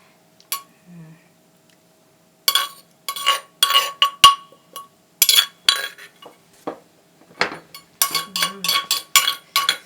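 A mortar of Thai corn salad (tam khao phot) is tipped and its contents poured onto a plate, giving a run of close ceramic clinks and knocks with scraping, in uneven bursts and without talk.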